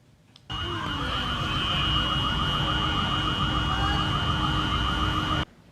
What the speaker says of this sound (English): As you can hear, the alarms were already adding confusion to the situation.